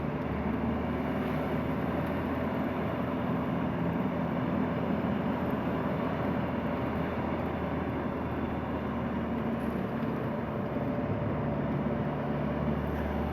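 Volvo 240 diesel with four-speed M45 gearbox cruising through Swedish woods, a steady low engine drone with road and wind rumble, continuous and moderately loud from inside the car.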